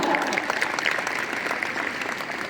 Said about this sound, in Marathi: टाळ्यांचा गजर होत राहिला पाहिजे आपल्या विद्यार्थिनींसाठी, तो थांबवायचा नाहीये